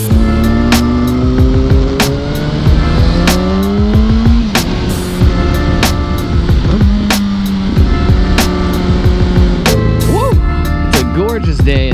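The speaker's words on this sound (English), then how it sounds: "I ride around on my motorcycle" A motorcycle engine drones loudly while riding, its pitch climbing and dropping in steps as the rider works through the gears, with sharp clicks and wind rush throughout.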